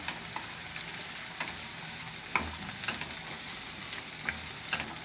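Green chilli, cashews and cauliflower fry in hot oil in a pan for a cauliflower and pea gravy curry, giving a close, continuous crackling sizzle with light stirring scrapes.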